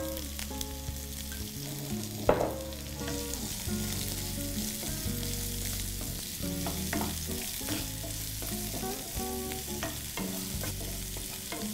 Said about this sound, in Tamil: வெங்காயம் நல்லா வதங்கணும் இல்லையா?